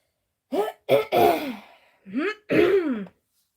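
Several short harsh coughs or throat-clearing bursts, close and loud, in two groups separated by brief pauses.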